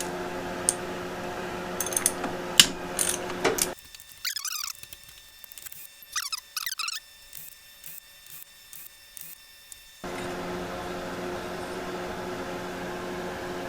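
Ratchet clicking and mechanical rattling while clutch spring bolts are removed from a Suzuki GS850 motorcycle. Bursts of quick clicks come close up, with a steady hum before and after a quieter stretch.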